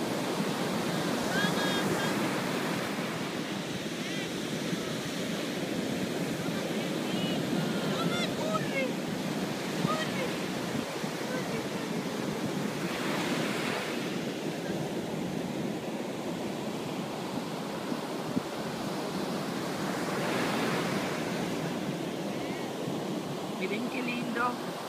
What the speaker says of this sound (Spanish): Miren qué lindo está el mar.